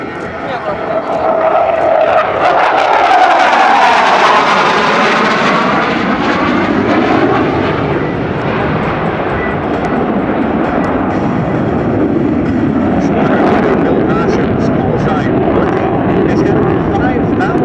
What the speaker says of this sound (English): better known as his call sign Budgie, brings the F111 into show center.